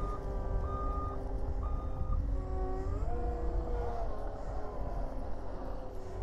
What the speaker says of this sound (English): he is gonna rip it all out with the skid steer.